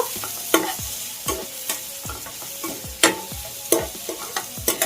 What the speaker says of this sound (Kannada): ಈಗ ನೋಡಿ ಚೆನ್ನಾಗಿ ಫ್ರೈ ಆಗಿದೆ ಇದು